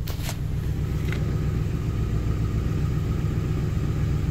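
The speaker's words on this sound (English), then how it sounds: "She definitely has a hole in the exhaust." A 2005 Ford Crown Victoria LX idling with a hole in its exhaust, giving a steady, loud low rumble that holds throughout, with a couple of brief faint clicks near the start.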